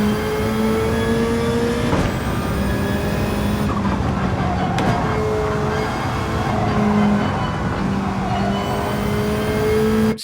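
Simulated 787 race car engine in Gran Turismo 7, a loud sustained high-pitched howl rising and falling through gear shifts across the lap, heard alone without talk.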